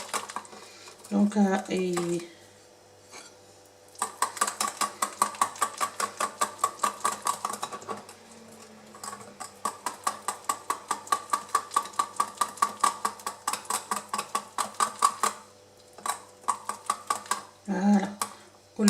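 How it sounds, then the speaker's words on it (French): A whisk beats batter with flour in a bowl, making fast, regular rattling strokes in long steady runs that pause briefly and resume, close and fairly loud, with a few short spoken words before and after. "On fouette comme il faut."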